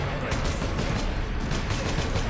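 Dense gunfire rattles in Warhammer 40000 Space Marine, including sniper rifle shots, a loud, busy barrage of overlapping bursts with no break.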